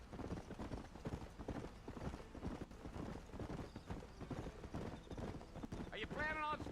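Horse hooves clip-clop steadily on a trail in the Western video game Red Dead Redemption, a continuous rhythmic trotting close by under ongoing game dialogue and music, with a brief horse whinny near the end.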